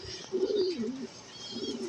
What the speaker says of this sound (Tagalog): Grabe tong ibon na to